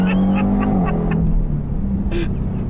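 A Dodge Durango Hellcat launches hard from first gear, its engine roaring loud and close with a rising rev and a gear-change dip midway, steady throughout with no talk.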